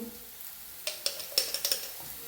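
A spoon scrapes and clinks in a pan as turmeric and spices fry, giving a string of short close taps over a faint sizzle.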